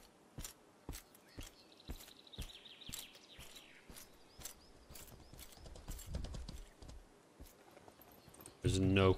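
Horse hooves clip-clopping in the video game Mortal Online 2, a steady walking rhythm of crisp hoofbeats over faint ambience, with a brief burst of louder noise at the very end.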